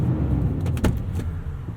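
A 2020 Toyota Tundra TRD Pro CrewMax with a 5.7L V8 and TRD exhaust, running with a steady, deep low rumble close by, plus a few brief clicks and rattles partway through.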